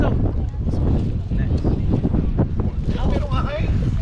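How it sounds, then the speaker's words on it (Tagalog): Strong wind gusts buffet the microphone at a beach, with a steady rumbling roar throughout and a voice talking over it. "malakas ang hangin"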